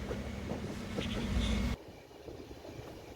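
Interior rumble of the Kottayam–Kanniyakumari passenger train in motion, a steady low roar with faint rhythmic wheel clatter that abruptly drops to a quieter level midway.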